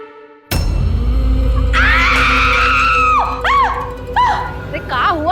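A woman's loud, sustained scream bursts in suddenly after a brief quieter moment, with wavering pitch and several rising and falling cries, close and dominating over a dense, noisy background.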